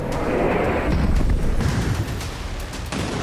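Heavy bombardment in a war zone in Gaza: dense, continuous rumbling booms and blasts of artillery fire and bomb explosions, loud and sustained throughout with no pauses.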